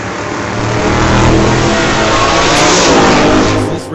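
Drag race launch at an old-time drag meet between a little Ford Pinto and a big-wheeled car, very loud roaring engines building and holding full throttle, then easing off near the end.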